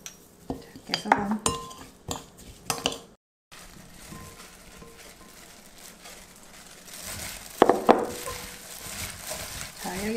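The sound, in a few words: mixing cucumber and bellflower root salad by hand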